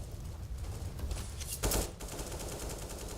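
Automatic gunfire in Counter-Strike on de_cobblestone during a pro match, a dense, steady rattle under a low rumble with one sharper, louder burst midway.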